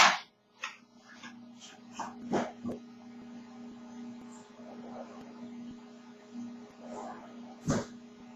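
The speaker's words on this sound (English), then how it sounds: "Had a dog at the door." A dog at a house door lets out a few sharp barks, spaced apart over several seconds indoors, above a steady electrical hum, with no talking.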